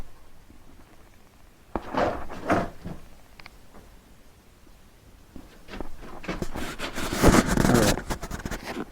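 Sliding toilet door in a country house under renovation, giving a few close scraping and knocking bursts as it is moved, with quiet pauses between and louder rattling toward the end.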